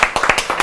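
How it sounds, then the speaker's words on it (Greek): A short burst of a few people clapping their hands, with quick uneven claps over about half a second at a cheerful singing event. "Χειροκρότημα."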